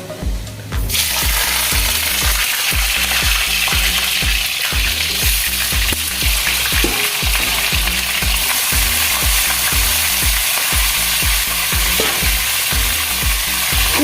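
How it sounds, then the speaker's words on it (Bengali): Cauliflower florets fry in hot oil with a loud, steady sizzle, broken by a regular rhythm of scraping stirs against the pan throughout. "এদিকে তো ফুলকপির তেলটাও গরম হয়ে গিয়েছে ফুলকপিগুলো এবার ভেজে নেবো আমি"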